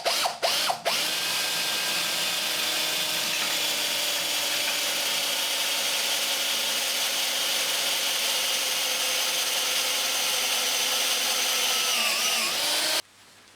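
Steady, continuous whine of an 8.6mm drill bit boring out a hole for a bracket, running close and uninterrupted for several seconds before cutting off abruptly.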